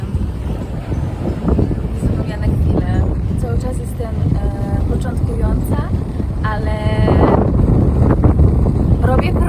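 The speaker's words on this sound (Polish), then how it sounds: "Jest duży wiatr." Strong wind buffets the microphone with a continuous low roar at Margaret River, Australia, while a voice is heard talking over it.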